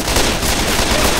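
Combat rifle fire in the video game Left 4 Dead 2, a dense, loud burst of rapid gunshots packed together with no pauses for just over a second.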